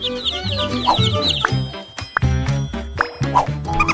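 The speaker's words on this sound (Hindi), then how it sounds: "इसे देखो तुम लोग, असली छोटे चूजे, बहुत छोटे और कोमल हैं।" Small chicks peeping in rapid high chirps at the start, mixed with loud clucking and other bright tonal sounds that carry on throughout, with no speech.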